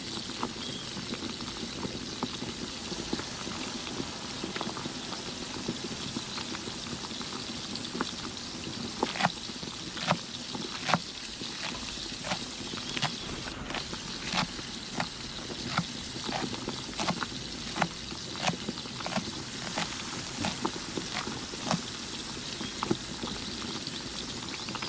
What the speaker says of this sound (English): Sear the wings until brown on both sides.